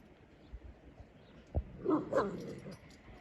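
A dog gives a few short barks and whimpering yelps at close range, with brief pauses between them over a quiet background.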